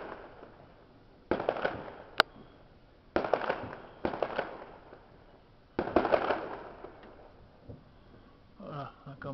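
Fireworks and firecrackers going off on New Year's Day 2021 in Houtain, Oupeye, Belgium: sharp bangs followed by crackling bursts in several separate clusters, fairly close and loud, with one sharp isolated crack and a rapid string of small pops near the end.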